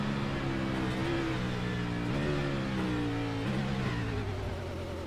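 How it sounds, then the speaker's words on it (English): A race car in iRacing brakes hard on the Circuit of the Americas, its engine note dropping and wavering through a continuous whirring and wobbling drone as the wheels hop under braking. "You heard the car wheel hopping under the brakes."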